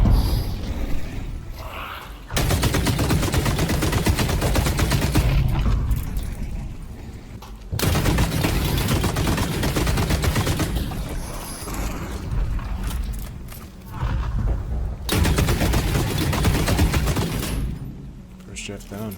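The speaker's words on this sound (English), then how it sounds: "One of the things I love in Season 2 is the change to some of the gun's sound effects." Gunfire from The Cycle Frontier in Season 2, with a chunky, heavy report, comes in dense loud bursts that run under continuous talk, broken by short quieter gaps.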